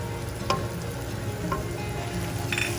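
Turmeric, chili powder and coriander powder fry with tomatoes in a pan, giving a steady close sizzle with a few soft stirring scrapes and no talk.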